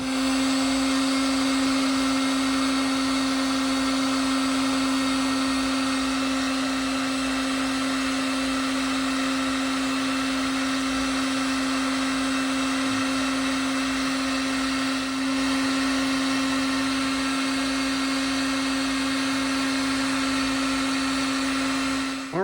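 A heat gun blows a steady, loud whirring hiss while shrinking heat shrink tubing over wiring connectors for a 3rd Gen 4Runner USB power panel, running continuously for over twenty seconds without talk.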